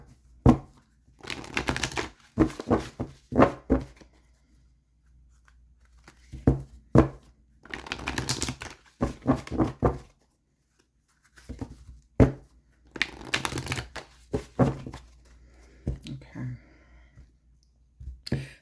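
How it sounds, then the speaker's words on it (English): Tarot cards are shuffled by hand in repeated bursts of crisp riffling and slapping clicks, close and fairly loud, with short quiet pauses between rounds and a faint low hum underneath. "Just shuffle the cards a little bit more for you, Taurus."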